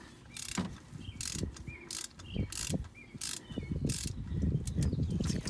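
A ratchet wrench loosening the oil drain plug on a Camry hybrid makes repeated clicking ratchet strokes in short bursts, close and fairly faint, with no talking.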